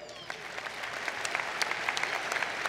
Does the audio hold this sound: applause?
yes